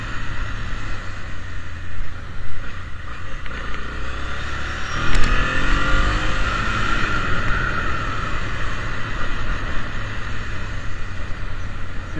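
A Honda Transalp 700 motorcycle engine runs loud and steady throughout, its pitch rising and falling as it revs, with rushing road noise around it.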